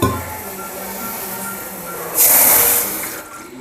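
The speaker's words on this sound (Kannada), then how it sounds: "ಎರಡು ಕಪ್ಪಷ್ಟು ನೀರು ಹಾಕಿದ್ದೀನಿ" Water poured into a pot for making soft rice flour rotti, a steady splashing stream that swells loudly for about a second and then eases off, with no talking.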